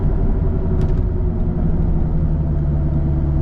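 A salvage BMW Z4's engine drones steadily while driving, a loud, continuous low rumble with a constant hum and no speech over it.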